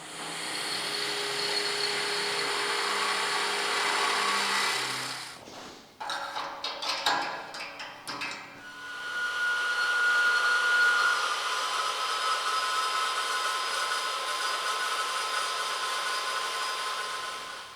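A power drill whines steadily at high pitch drilling holes in metal brackets, cuts out briefly amid a few clunks, then starts up again and runs loud and continuous.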